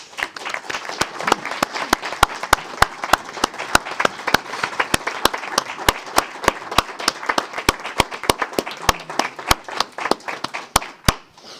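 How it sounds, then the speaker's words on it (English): Audience applause at a city council meeting, with loud, sharp individual claps ringing out regularly over a bed of broader clapping from the room, lasting about eleven seconds before tapering off. "So let's give him a round of applause"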